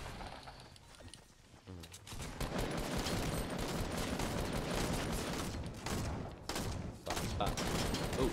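Gunfire in a video game landing headshots: a dense, loud burst of rapid shots that runs almost continuously after a quieter start, with brief gaps near the end.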